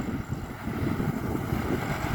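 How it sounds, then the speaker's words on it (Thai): Strong wind buffets an outdoor microphone in Thai farm country after a windy night, a steady loud roaring rumble with gusting surges and no voices. "ลมแรงครับลมแรง"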